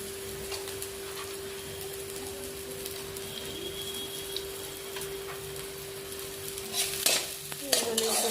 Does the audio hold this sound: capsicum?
yes